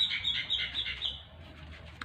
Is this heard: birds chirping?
yes